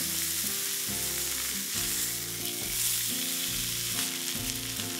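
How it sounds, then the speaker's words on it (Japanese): Meat sears on a rimmed outdoor iron griddle for camping, a steady close sizzle and frying crackle running the whole way with no voices. "1分半ほど焼き、しっかりと焼き色がついたら裏返します。"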